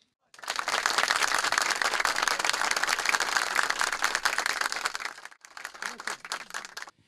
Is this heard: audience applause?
yes